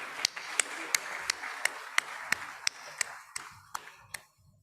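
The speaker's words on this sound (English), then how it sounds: "May we have a round of applause," A single pair of hands claps steadily at a conference session of a chamber of commerce, about a dozen crisp, evenly spaced claps over faint room tone, thinning out at the end.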